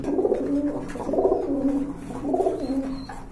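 Teddy pigeons coo close by in three deep, rolling phrases, each a throaty warble repeated at an even pace with no talking over them.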